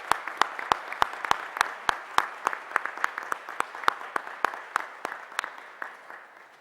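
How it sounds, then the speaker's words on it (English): At a Department of Justice event, an audience applauds a junior ROTC unit and a high school choir. Sharp, close claps land in a rapid, regular rhythm over a softer wash of applause from the room, then taper off. "Please join me in a big round of applause for the Woodrow Wilson High School Junior ROTC and the Springbrook High School Choir."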